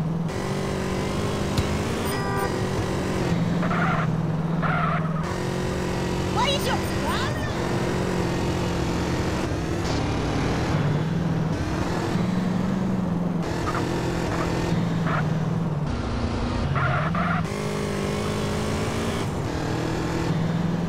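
Motorcycle riding in Grand Theft Auto, a steady engine drone with revving swells and passing-vehicle whooshes running throughout, loud and constant beneath game sounds and talk.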